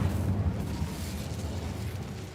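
A fire spell cast in Hogwarts Legacy erupts as a sustained roaring burst, a dense low rumble holding steady for a couple of seconds with no voices over it.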